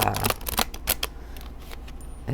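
A mass-market oracle card deck is shuffled by hand, giving a close run of papery flicks and riffles that settles into a softer rustle before a final snap.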